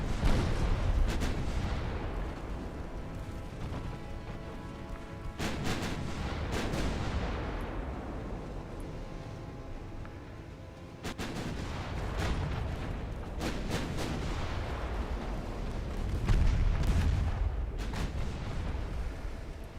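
Naval guns fire at a destroyer in the naval strategy game Ultimate Admiral Dreadnoughts, with repeated heavy booming salvos and sharp cracks spread across the stretch, over a continuous low rumble of battle.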